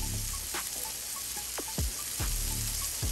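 Vegetables sautéing in oil in a stainless steel pan, a soft continuous sizzle with a few tossing thumps and scrapes, fairly quiet and close, with no talk.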